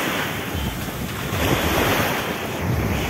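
Sea waves wash steadily onto the sand at Playa Marlin beach in Cancún, a loud continuous broadband surf roar mixed with wind buffeting the microphone, with no talking.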